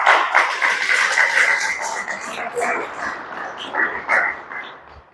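A congregation claps together as an offering of applause during a Christian worship service, a dense, steady, fairly loud patter of many hands that swells in places and carries on throughout.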